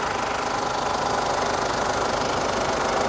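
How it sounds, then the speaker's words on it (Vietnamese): Diesel car engine idling, with its original factory engine, gives a steady, close rumble with a fine knocking texture that holds even throughout with no voices. "Máy số zin nguyên bản, máy nổ rất là giòn và êm nhé."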